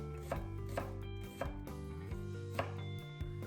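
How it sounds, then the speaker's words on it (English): A knife cuts an onion on a cutting board in regular close thuds, about one every half second, over a low steady hum. "Next, cut the onion 1 cm width."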